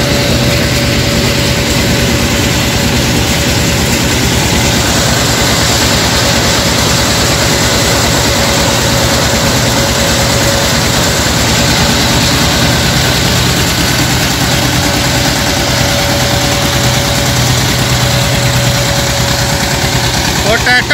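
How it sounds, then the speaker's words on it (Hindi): A tractor-driven straw cutting machine runs steadily without load at about half throttle, a loud, continuous engine drone with a constant mechanical hum and vibration throughout. "नॉर्मल चल रहा, कोई लोड नहीं है ट्रैक्टर पे"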